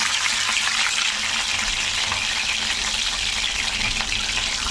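Finely chopped garlic, nine or ten cloves, sautéing in hot oil for a fenugreek dish, giving a steady, dense sizzle that runs evenly throughout with no pauses and no talking.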